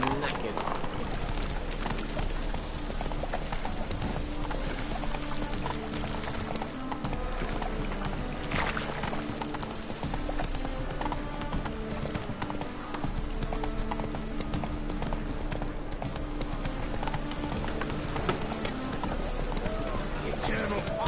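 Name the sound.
horse Roach galloping in video game The Witcher 3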